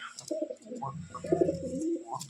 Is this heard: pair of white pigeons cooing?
yes